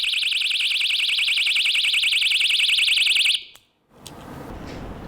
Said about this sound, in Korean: 그녀는 호신용 경보기를 들고 다닙니다.